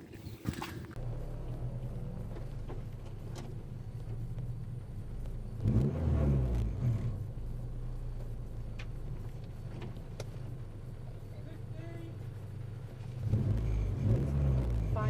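A rally car drives a stage on the Road to Mull rally with a steady close engine drone and rumble, a couple of brief surges in revs, and no voices.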